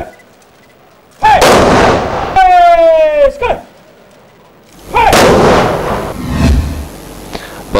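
The Manipur Rifles fire a ceremonial gun salute: two loud, booming volleys some seconds apart, each followed by a rumbling echo, with a brief tonal sound between them.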